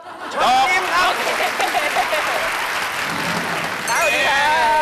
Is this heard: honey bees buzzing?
no